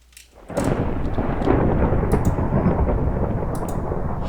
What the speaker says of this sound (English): sorry about the thunder.